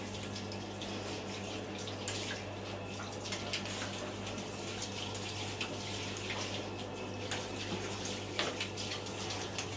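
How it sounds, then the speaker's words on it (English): Warm water spraying from an electric shower onto a dog, a steady hissing stream that runs evenly throughout with a low electrical hum underneath, close and constant, no talking. "And it's warm water as well. Yeah, you can adjust the temperature as a proper electric shower."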